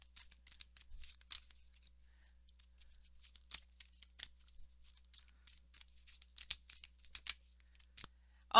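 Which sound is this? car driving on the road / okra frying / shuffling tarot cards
shuffling tarot cards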